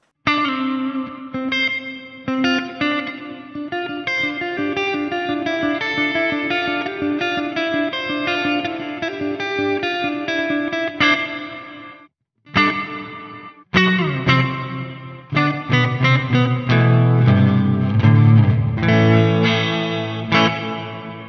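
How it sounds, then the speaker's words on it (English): Electric guitar chords played through a Strymon BigSky MX pedal on its Reactor Hall gated impulse reverb: loud, lush reverberant strums that stop abruptly, a brief silent gap, then a fuller, distorted passage. "So yeah, sort of real nice reverb, but then a sharp gate at the end, and it just cuts off dead."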